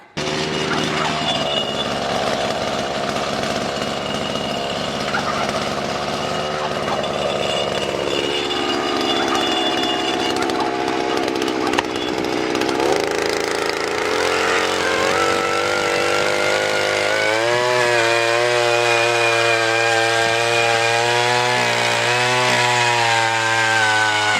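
Loud, sustained whine of a power drill straining as it drives a ground anchor into the soil, its pitch dropping and rising under load, running without pause.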